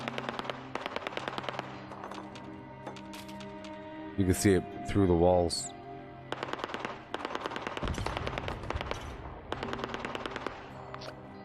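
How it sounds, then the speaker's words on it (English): Gunfire in the video game Fallout 76: rapid bursts of automatic shots crackle in quick succession, broken by a short pause, while someone talks over the action. "The sound of gunfire."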